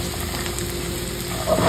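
Tofu frying in hot oil, a steady close sizzle that holds even throughout, with a slight clatter near the end.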